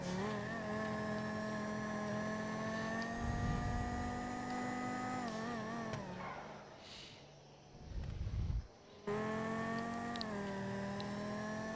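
The Banshee sports car from Grand Theft Auto Online races at the Mugello circuit, its engine holding a steady high-revving whine, dipping briefly with a gear change and a rushing pass before roaring back at full speed.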